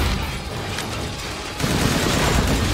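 Explosions and gunfire-like blasts fill the Heisenberg boss fight in a video game, a continuous, dense barrage of rumbling bursts that grows heavier and louder halfway through.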